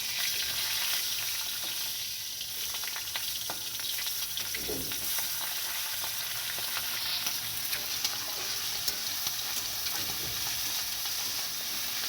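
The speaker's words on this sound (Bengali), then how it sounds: "আরেকদিকে আমি এই যে খয়রা মাছগুলো ভাজছিলাম।" Khoira fish fry in a pan with a steady, close crackling sizzle, punctuated by occasional stirring clicks and scrapes throughout.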